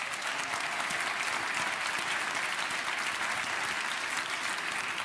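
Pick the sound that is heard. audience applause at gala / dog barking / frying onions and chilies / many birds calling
audience applause at gala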